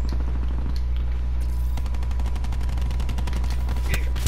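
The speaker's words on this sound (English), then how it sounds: "I'm getting shot at." Rapid automatic gunfire in the Call of Duty Blackout video game rattles in a fast, steady stream of shots over a constant game hum, loud and continuous through the back half.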